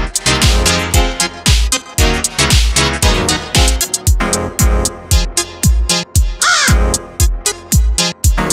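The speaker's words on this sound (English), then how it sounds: "Crows." American crow caws, sharp and repeated, are cut into a loud, steadily thumping dance-music track, recurring in rhythm with the beat throughout.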